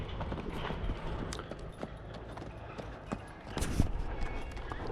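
Horse hooves clip-clop steadily on the ground during a horseback ride at a paddock near Inle Lake, Myanmar, a close, continuous patter of footfalls.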